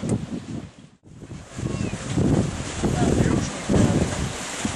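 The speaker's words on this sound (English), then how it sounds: "you probably hear the wind blowing in the background here" Gusty wind blows outdoors in South Yarmouth, Massachusetts, rumbling and buffeting close to the microphone in uneven surges, with one brief lull early on.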